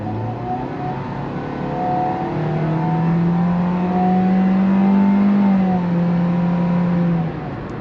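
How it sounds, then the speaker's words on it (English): An MG3 with a 1.5-litre petrol engine and CVT pulls away from a rolling start in normal mode, its engine drone climbing steadily and holding a high, even whine before easing off, heard from inside the car. "The engine definitely does make quite a bit of noise here and there."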